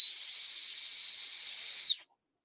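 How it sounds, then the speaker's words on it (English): Whistle built into a New Balance 574 Yurt shoe blown in one steady, piercing high tone for about two seconds, loud and close, then cutting off abruptly into silence. "who else has a whistle on their shoe?"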